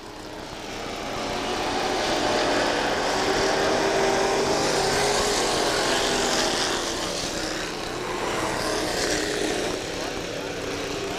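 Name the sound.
pure stock race cars racing at Kil-Kare Speedway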